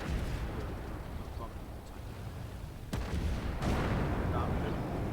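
Tank cannon fire in the Armored Warfare video game, a faint rumbling backdrop broken by two sharp booming shots about a second apart, the second followed by a louder sustained roar.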